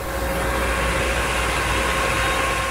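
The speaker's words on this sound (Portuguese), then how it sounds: "Senão força muito o motor do trator, porque a tomada de força exige muito do trator." Tractor engine running steadily while powering a cannon crop sprayer through its power take-off on a mountain coffee farm, a constant droning hum with a steady whine on top, loud and continuous with no talking.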